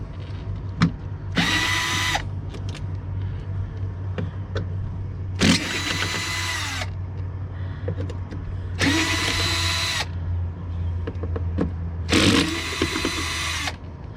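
A power drill backs screws out of a door panel on a Freightliner Columbia truck, with four separate whirring bursts of one to two seconds each, spaced a few seconds apart over faint background engine hum.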